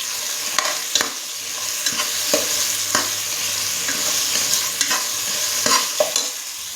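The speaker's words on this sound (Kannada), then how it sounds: "ಟೊಮೊಟೊ ಸ್ವಲ್ಪ ಸ್ಮ್ಯಾಶ್ ಆಗೋದು ಬಿಟ್ಬಿಡೋಣ, ಚೆನ್ನಾಗಿ ಫ್ರೈ ಆಗಲಿ." Tomatoes frying in a pan, a close steady sizzle with regular scraping and tapping strokes of a spoon stirring them, no voices.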